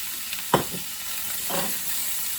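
Food sizzling in a hot pan for a beef stir-fry with a steady hiss, broken by a sharp clatter and a second burst as carrots, onions and peppers drop in.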